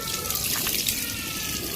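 Water splashes steadily during a face wash, a constant close hiss of running and splashing water with no pauses across the short stretch.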